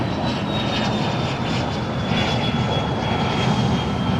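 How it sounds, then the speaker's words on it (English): Cessna Citation Excel business jet departing runway 25 left at Los Angeles International Airport, a loud steady engine roar with a thin high whine, heard close and alone. "So a little Cessna Citation Excel departing off runway 25 left."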